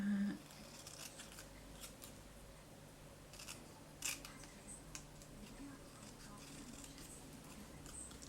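Scissors make faint, sporadic snips while cutting paper for a wreath card, small sharp clicks spread through a quiet room, with soft rustling and a murmur of speech in the background.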